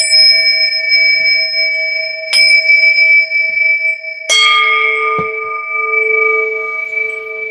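Bells ring out during a live tarot reading: two or three clear struck tones, each sustaining a long, steady ringing hum that slowly fades. They are loud and near, with no talking over them.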